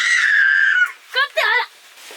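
A small child lets out a high, sustained wail that breaks off into short vocal sounds, close and loud, at home.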